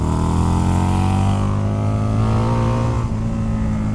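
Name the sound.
motorcycle engine revving, Harley built by a supercar maker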